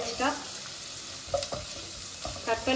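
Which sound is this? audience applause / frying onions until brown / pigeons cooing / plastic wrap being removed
frying onions until brown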